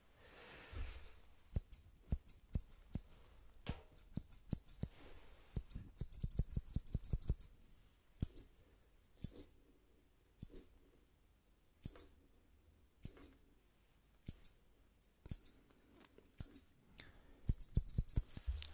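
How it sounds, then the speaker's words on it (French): Quick, crisp snips of scissors repeating at an irregular pace, close and quiet, with no voices. "J'utilise encore mon couteau, mes ciseaux quelques secondes"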